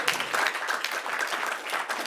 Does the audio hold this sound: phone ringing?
no